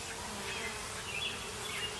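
Honey bees from a hive being inspected for foundationless frames buzz in a steady, dense drone after a stuck frame is jerked loose, the hum continuous and fairly close with no talking.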